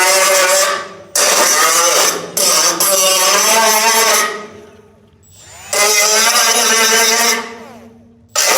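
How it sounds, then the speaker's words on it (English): Loud angle grinder cutting out welds on a Porsche 914, running in several long, close bursts with harsh metallic whine that winds down between passes. "this should only take me a couple of minutes to grind out these welds"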